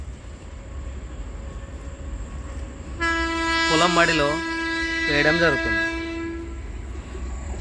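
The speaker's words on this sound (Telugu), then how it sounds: "ప్రకృతి స్వయంగా ట్రైన్ కూడా పక్క పొంటే వెళ్ళడం జరుగుతుంది" An Indian Railways train passes near a paddy field and sounds a long, loud, sustained horn that wavers twice in pitch, over a steady rail rumble while someone talks.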